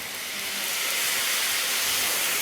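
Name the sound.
cream deglazing a hot frying pan with lamb juices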